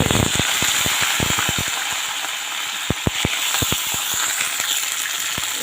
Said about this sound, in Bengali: এবার প্রথমে আমি ব্রোকলিগুলো হালকা করে ভেজে নেব